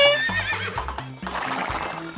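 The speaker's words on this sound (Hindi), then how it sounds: "अपने घोड़ों पर चढ़ो दोस्तों, कमाल का घोड़ा है हमारा घोड़ा।" Horse whinnying loudly and close, a rising, quavering neigh followed by a snorting, shuddering tail, with no talk over it.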